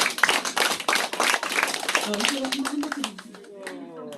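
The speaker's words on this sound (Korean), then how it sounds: "축하의 박수 한번 해주시면 감사하겠습니다." An audience claps in congratulation at a Yeongdeungpo Free Village launch ceremony, a dense burst of hand claps that thins out while a voice speaks and music plays over it.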